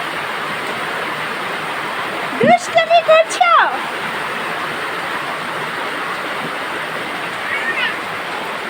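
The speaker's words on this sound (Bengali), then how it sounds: "ধুমসে বৃষ্টি, ধুমসে পানিতে ভরে গেছে রান্নাঘর" Heavy rain pours steadily over a kitchen filling with water, a dense, loud, continuous roar, briefly interrupted by a short spoken phrase near the middle.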